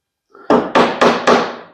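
Ball peen hammer striking an antique dresser drawer: four sharp, evenly spaced wooden knocks in quick succession, close and loud, with no talking.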